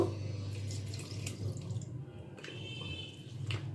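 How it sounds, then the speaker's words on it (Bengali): Milk poured into a pithe batter for pathishapta: a steady liquid stream runs throughout, with a few small splashes and clinks near the end. "এর মধ্যে আমি আর একটু দুধ অ্যাড করব"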